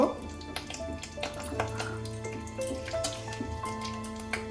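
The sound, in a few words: bay leaves, cinnamon, cardamom, cloves sizzling in hot oil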